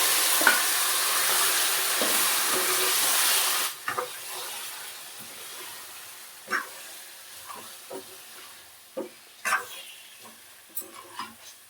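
Chicken pieces hit hot oil with cumin in a pan for biryani, a loud sizzle for several seconds that then drops to a quieter fry broken by scattered spoon scrapes and clinks as it is stirred.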